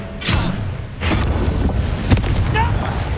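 Confringo fire spell blasts in Hogwarts Legacy, a few heavy booming bursts with rumbling tails spread across the moment, with a character's voice heard in between.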